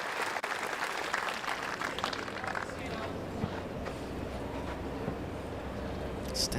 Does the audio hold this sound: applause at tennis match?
yes